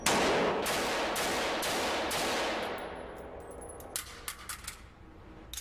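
Gunfire at a Federal Reserve police shooting range, a few loud, close shots with long reverberant tails, then quieter scattered shots and clinks trailing off.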